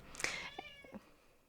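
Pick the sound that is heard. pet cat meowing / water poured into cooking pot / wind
pet cat meowing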